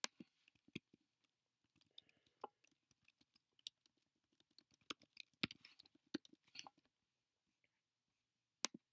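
Quiet, sparse clicking of a computer keyboard as a few words are typed, with short bursts of taps separated by pauses, close and faint, with no talking.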